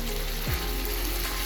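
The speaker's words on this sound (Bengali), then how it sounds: "এখন এগুলিকে আমি সুন্দর করে মিক্স করব" Spices in a pan of chicken curry with bottle gourd give a dense, steady frying hiss under a low hum as they are mixed, with one brief scraping sweep partway through.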